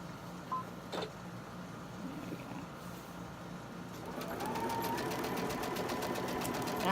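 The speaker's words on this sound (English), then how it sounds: "so let me get that sewn on there." A sewing machine stitches a fabric quilt block, the steady mechanical whir starting faint and growing louder and continuous in the second half, close by with no talking.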